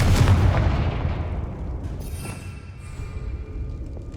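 A Confringo fire spell blasts in Hogwarts Legacy, a loud booming burst at the start that rolls off into a long, fading rumble with no other sounds over it.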